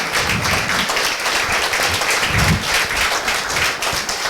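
An audience applauds at a business gathering, with dense, sustained clapping from many hands that stays loud and even for several seconds with no pause.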